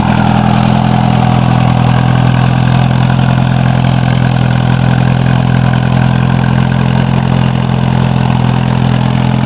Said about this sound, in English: literally starts right up with the flick of a key. And as you can tell, it sounds nice and quiet like a VW should.